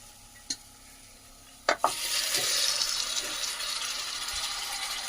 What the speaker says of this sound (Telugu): ఇందాక బాయిల్ చేసుకున్న మటన్ అనేది ఇప్పుడు ఇందులోకి యాడ్ చేసుకుందాము.